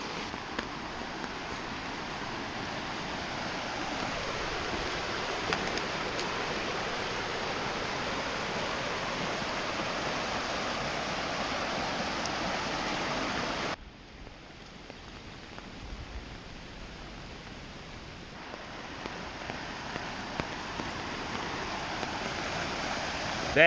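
A flooded creek in Southwest Ohio, running several feet above its usual level, gives a loud, continuous broadband rush of water that drops briefly in level partway through and then swells again.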